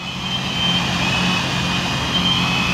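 A large X-Class multirotor drone flying overhead gives a steady, loud motor whine and rotor drone that holds constant throughout, with no talk over it.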